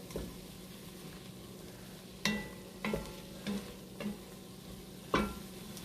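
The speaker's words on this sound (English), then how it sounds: "Give this another quick stir." Gumbo in a cast iron Dutch oven being stirred, a spoon scraping the pot in about six separate strokes over a quiet, steady simmer, with no talking.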